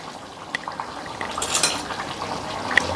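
Spoon stirring a small-fish curry with fresh coriander in a pan: light scraping and soft clinks of metal against the pan over a quiet bubbling simmer, close and fairly faint.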